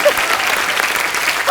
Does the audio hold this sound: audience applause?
yes